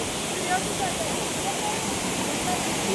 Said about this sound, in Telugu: వాటర్ ఫాల్స్ అన్నీ ఫుల్ ఫ్లోలో ఉన్నాయి